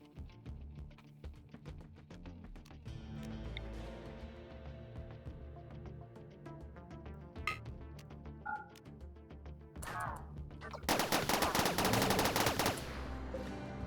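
Colonist gunfire in the RimWorld video game: bursts of sharp shots crack over a steady bed of game music and effects, ending in a dense, loud volley of rapid fire near the end.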